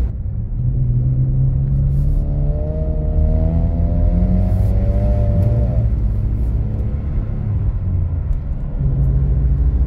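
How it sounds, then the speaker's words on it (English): A BMW E46 rear-wheel-drive car drifting on snow, its engine droning loud and steady throughout, with the revs climbing then dropping back midway. "Rear wheel drive driving on snow."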